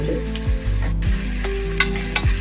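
Turmeric and chilli powder being stirred into bottle gourd curry in a pan, a steady close sizzle with a few soft scraping strokes of the spoon and no talking.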